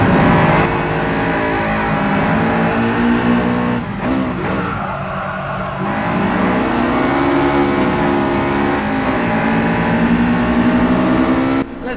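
Race car engine in GT Sport driven with a Thrustmaster T-GT 2 steering wheel, loud and close, revving up and down through gear changes with a steady harmonic whine, brief easing mid-run before accelerating again.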